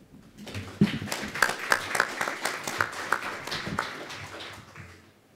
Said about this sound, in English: Let's give Clair a round of applause.